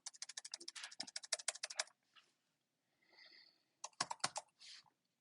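Number keys tapped on a computer keyboard in quick, crisp bursts: a rapid run of clicks, a pause, then a shorter flurry, close and clear in a quiet room.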